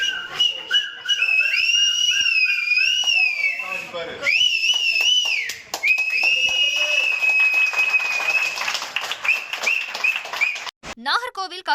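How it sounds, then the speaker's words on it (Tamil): Party members blow shrill whistles in long, wavering blasts, loud and continuous, with applause and crowd noise underneath and a brief pause partway through. "விசில் அடித்து தாவேகாவில் இணைந்திருக்கிறார்கள்"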